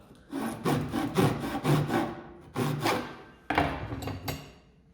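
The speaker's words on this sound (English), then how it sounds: "So now sawn to the depth there on this side and on the opposite side as well." Hand saw cutting through wood for a dovetail halving joint, a series of close, rhythmic rasping strokes in three bursts with brief pauses between them.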